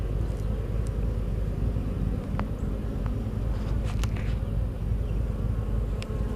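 Honey bees at an opened hive give a steady, close buzzing hum throughout, with a few sharper passes as single bees fly near.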